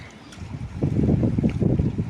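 Steady wind noise with a rushing, washing swell of water that grows louder midway, no voices.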